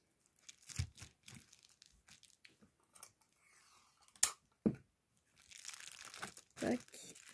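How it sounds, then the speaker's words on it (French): Bubble wrap being crinkled, torn and handled while an order is packed, with soft rustling, scattered crackles and a couple of sharp tearing bursts, close by and with no talk. "Ensuite, hop, préparation papier bulle."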